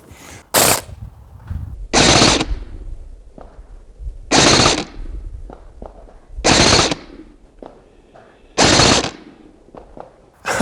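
An airsoft gun fitted with a 3D-printed hop-up fires at a target in four or five loud, sustained bursts of rapid shots, each lasting about a second, with quieter mechanical clicks and handling noises between them.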